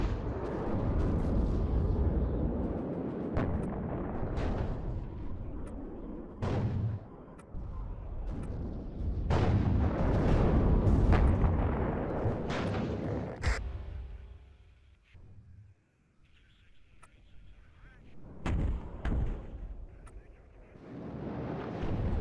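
Artillery barrages from the WARNO strategy game rumble and boom in repeated heavy blasts, with sharp impact cracks and rolling explosions overlapping through the clip, then a quieter lull before a few more distinct booms.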